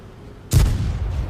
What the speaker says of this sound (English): I shot in the dirt there